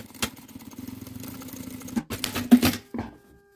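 Sewing machine running a 3.5 mm topstitch right along the edge of a fabric clutch being turned into a phone holder, a steady close mechanical whir with short bursts and pauses, no talking.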